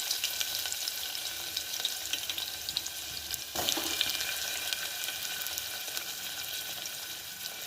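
Onions frying in a pan with cumin seeds and green chillies, a steady close hiss and crackle of oil running throughout with a brief louder burst partway through.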